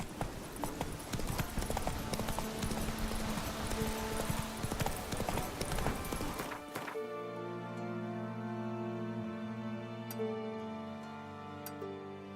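Roach the horse gallops in The Witcher 3 with rapid, rhythmic hoofbeats that are busy and close for about seven seconds, then cut off abruptly to quiet sustained music tones.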